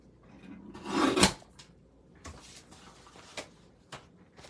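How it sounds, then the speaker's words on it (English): Paper for a handmade card being trimmed, with a brief rasping cut followed by softer scraping and a few light taps, close and quiet with no talk. "So I'm just trimming this down a little."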